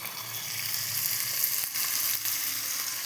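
Ginger-garlic paste frying with onions and cumin in hot oil, a steady bright sizzle running throughout with a couple of brief dips, no voices.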